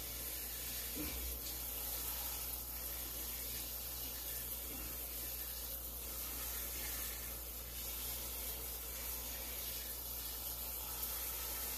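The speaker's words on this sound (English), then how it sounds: "Spray that all around. Get your hot water in there." A steady, faint hiss of hot water spraying in a kitchen sink runs throughout with no pauses, a few soft clunks underneath.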